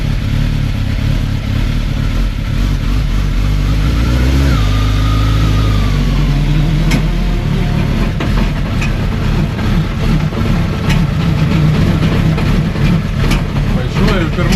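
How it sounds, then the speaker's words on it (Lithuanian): A motorcycle project bike creeping along very slowly in first gear with a loose chain jerking, its engine a steady close low rumble throughout, with a rev swell partway and occasional sharp clanks over the drone. "Važiuoju pirmų bėgių, tik ta grandinė belenkaip tampasi"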